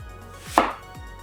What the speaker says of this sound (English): I am going to cut in the slices like that.